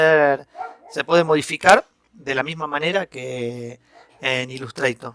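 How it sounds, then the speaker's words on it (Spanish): A female dog barks and yips in the background of a room, partly masked by a person talking continuously in the foreground. "Si escuchan la perra de fondo, no se asusten."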